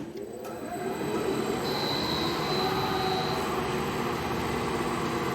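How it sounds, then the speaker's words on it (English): A rebuilt Eddy giant huller starts up: a broadband mechanical roar builds within the first second and holds steady, while a thin high-pitched electronic whine from its variable frequency drive rises and sustains above it, no voice. "Now that high-pitched whine is because of the variable frequency drive"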